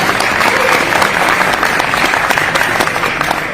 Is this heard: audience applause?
yes